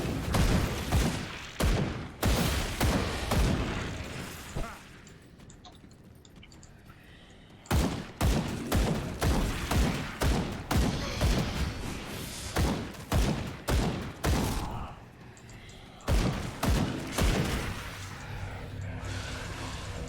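Gunfire rings out in Grim Dawn, a dense series of loud, sharp shots fired in rapid bursts with brief lulls between them, and the shooting continues steadily through the end. No voice is heard.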